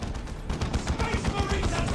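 Devastator squads fire in the Warhammer 40,000 strategy game Dawn of War Retribution, a dense, continuous crackle of heavy gunfire. The shots are rapid and overlapping for the whole moment, loud and close, with no lulls.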